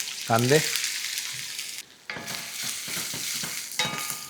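Mustard seeds crackle and pop in hot oil for a tempering base for murade poha, a dense, continuous sizzle that dips briefly midway before resuming close and loud, with no talking.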